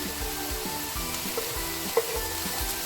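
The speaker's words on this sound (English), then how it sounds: "Also going to add some carrots, chopped carrots." Chopped carrots going into a pot of beef stew, with a steady close sizzle and bubbling and a few soft clinks and stirring knocks over the constant frying hiss.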